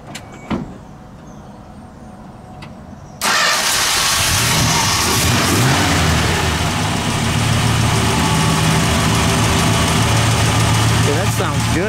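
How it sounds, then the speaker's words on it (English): 1968 Plymouth Sport Fury 383 V8 fires up after a faint click and settles into a loud, lumpy idle, rumbling steadily close by for the rest of the stretch. "We'll let it idle. We'll step on the brakes and we'll give it a rev."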